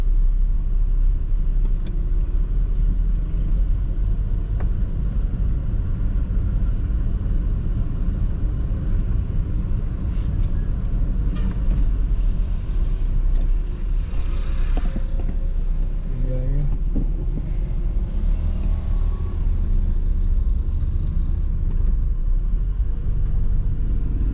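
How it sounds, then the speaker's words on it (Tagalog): Heavy road traffic of cars and buses in Lipay, a constant loud low engine rumble with passing vehicles and occasional horn-like tones, with some voices mixed in. "Ganito ka traffic pala dito."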